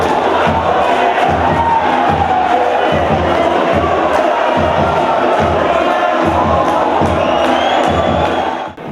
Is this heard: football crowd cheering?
yes